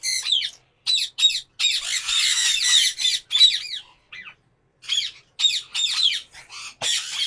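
Conure parrots guarding their nest during breeding season give harsh, loud squawks in rapid bursts, some rising and falling, broken by brief quiet gaps, very close with no speech.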